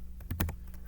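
Keys clacking on a Chromebook keyboard as a terminal install command is typed, a short run of three or four close, crisp taps.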